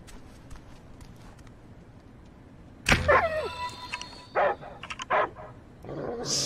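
A dog in a video game barks in a few sharp, close bursts, alongside game sound effects and clatter over a low background hum.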